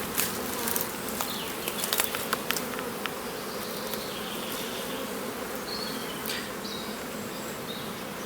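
Honeybees swarm densely over an open hive crowded with bees during a beekeeping inspection, a steady close-up buzzing hum with occasional louder passes of individual bees near the ear.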